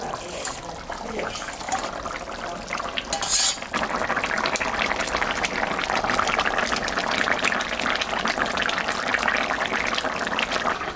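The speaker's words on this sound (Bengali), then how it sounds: "এখন আমি মাছটা দিয়ে দেব" Mrigal fish going into a boiling gourd curry in a pot, a steady loud bubbling and sizzling wash with scraping and clinks of a utensil, one sharp splash-like burst early on.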